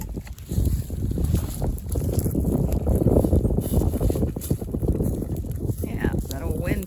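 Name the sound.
wind blowing outdoors near a fire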